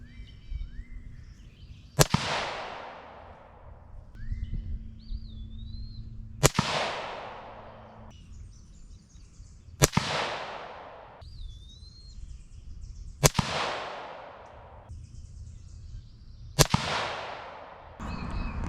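A Rossi .17 HMR rifle fired at a 100-yard target outdoors, five loud, sharp cracks spaced a few seconds apart, each trailing off in a fading echo, with birds faintly calling between shots.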